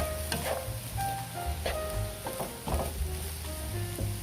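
Beef chao fan, a fried rice, stir-fried and tossed in a pan, giving a steady close sizzle with soft scraping and clacking from the stirring and no voices.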